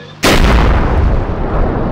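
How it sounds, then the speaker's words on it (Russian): A tank cannon fires in the combat game ArmA 2, one sudden heavy boom that cuts in after a short quiet moment and rolls on as a loud, sustained rumbling blast. "Вон, работает танк."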